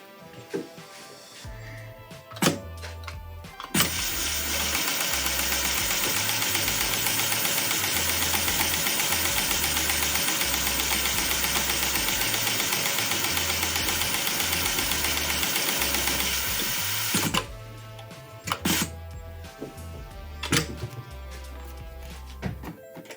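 PLK G2008H sewing machine running in a sustained loud mechanical whir for about thirteen seconds, framed by sharp clunks and clicks of clamping and thread cutting before and after.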